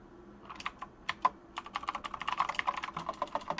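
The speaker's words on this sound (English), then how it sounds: "Sorry, I have a mechanical keyboard now." Rapid, uneven clacking of keys on a mechanical keyboard, quiet and close, speeding into a dense burst of keystrokes in the second half.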